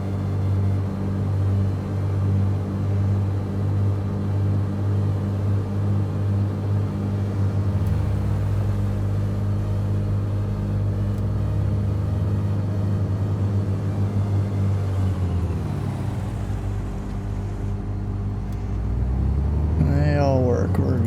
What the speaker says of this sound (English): Throttle 2000 RPM. Then I can hear the turbo spooling up.